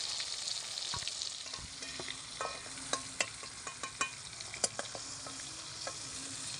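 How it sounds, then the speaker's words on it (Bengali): Pointed gourd (potol) frying in hot oil gives a continuous soft sizzle, with scattered light clicks and taps from a utensil moving the pieces in the pan, close and without speech. "একইভাবে আমি সবকটা পটল ভেজে নেব"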